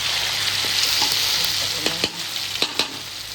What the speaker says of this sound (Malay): Tumiskan cili.